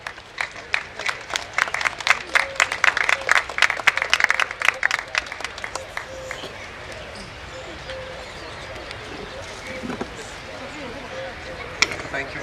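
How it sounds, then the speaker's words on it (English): Audience at an inauguration ceremony breaks into loud, dense applause that peaks in the first few seconds, then thins out and fades to scattered claps and room murmur. "a huge round of applause, please"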